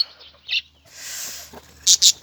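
A young parrot just learning to fly gives short, bright chirps and squawks close by, in a few separate bursts with quiet gaps between, and a louder cluster of calls at the end.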